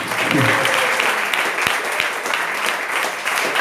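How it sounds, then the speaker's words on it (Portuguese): A church congregation claps together in steady, dense applause lasting the whole stretch, close and loud, with a few voices calling out faintly underneath. "Aplauda o Senhor."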